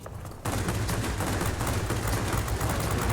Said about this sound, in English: We're going to put those 30mm cannons to good use.